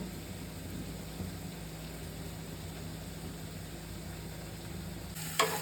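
Masala and spices frying in a pan for paneer bhurji give a soft, steady, close sizzle, ending with a short clatter.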